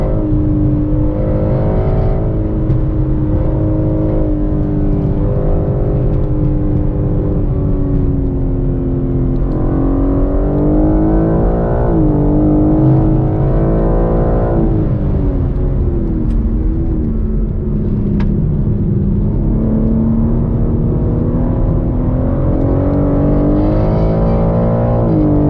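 A 2021 BMW M3 Competition engine drones loudly on a race track, its pitch rising and falling through long pulls and shifts, steady and close from inside the car, without voices.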